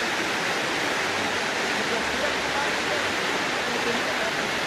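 Steady broadband rush of a river flowing beneath a bridge in a scenic mountain valley, a constant, even wash of water with no breaks, loud and close throughout.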